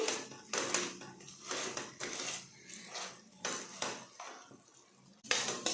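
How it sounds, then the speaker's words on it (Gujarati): Masala spices with red chili powder are mashed in a pan with a masher while cooking paneer gotala, giving repeated scraping, clattering strokes in an uneven rhythm, close and fairly quiet. "આ મસાલાને મેસરના મદદથી મેસ કરી લઈશું"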